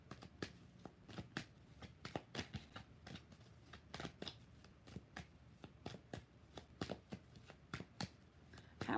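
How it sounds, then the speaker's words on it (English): Tarot cards being shuffled by hand, a rapid run of crisp riffling flicks and soft slaps close by, steady throughout with no voice. "Last shuffle."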